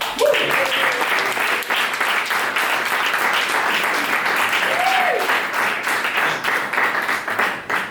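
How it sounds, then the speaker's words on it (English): Sustained audience applause at a talk, steady dense clapping throughout with a couple of brief vocal whoops rising over it. "can we give a round of applause?"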